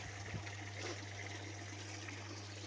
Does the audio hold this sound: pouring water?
yes